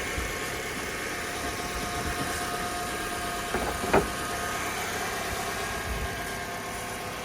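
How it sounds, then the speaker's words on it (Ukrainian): A Hyundai Tucson engine idles steadily with a smooth, even hum and faint vibration, a brief knock around the middle, no talking. "Двигун працює чітко"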